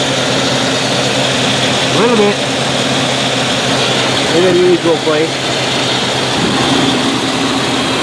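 A full-size truck engine with leaking valve covers idles steadily, a loud, continuous low rumble that fills the clip while someone talks over it.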